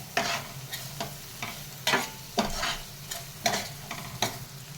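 Chili powder and garam masala frying in a pan for a liver dish, a steady soft sizzle broken by repeated scraping stirs at a regular rhythm, close and moderately loud with no talking.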